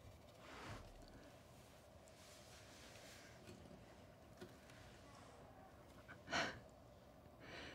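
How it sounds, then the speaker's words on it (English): A short, sharp nose blow bursts out once near the end, over a quiet room with faint rustling. "blowing his nose again"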